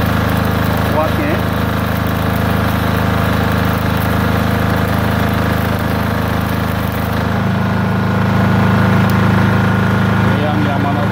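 A Yamaha welding generator set runs steadily, a loud continuous engine drone with a mid-pitched hum that shifts slightly in tone partway through, with no speech over it.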